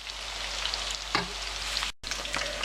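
Meatballs fry gently in simmering oil over very low heat, a close, continuous soft sizzle and crackle with a faint clink partway through and a momentary dropout near the end.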